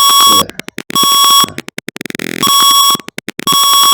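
An IoT temperature alarm buzzer sounds loud, piercing electronic beeps in repeating patterns of long tones and rapid short pulses, close and alone.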